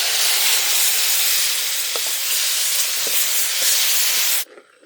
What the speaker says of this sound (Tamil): தக்காளி அரைச்சிட்டு வந்துருக்கோம்